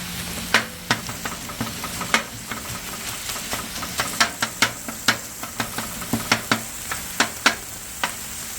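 Sharp, irregular taps of a utensil chopping chicken into pieces in a frying pan ring out over a steady, loud sizzle of frying.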